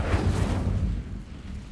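Incendio fire spell cast in a video game: a loud, rumbling burst of flame with a deep boom that holds steady for about a second, then eases into a lower roar, with no talking.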